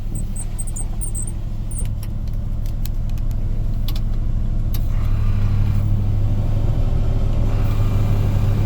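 A 1977 Ford F100 Ranger pickup's air conditioning compressor makes a steady low motor hum that fills the cab, with an occasional light jingle of keys near the start and a few clicks.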